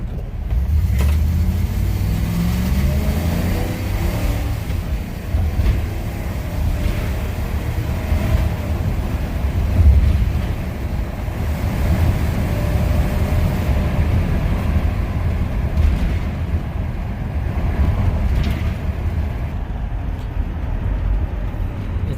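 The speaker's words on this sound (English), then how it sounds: "We are here on a box truck. We're gonna test the 0 to 60" A U-Haul box truck's engine roars steadily under hard acceleration from a standstill toward 60 mph, a continuous loud low drone heard from inside the cab with road rumble and no talk.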